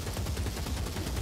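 A Ratling Gunner in Warhammer Vermintide fires in a rapid, unbroken stream of rattling shots, loud and close, with no pause across the short burst.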